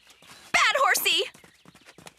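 A cartoon horse lets out a loud, wavering whinny at close range in the middle of the clip, with faint hoof clip-clops before and after.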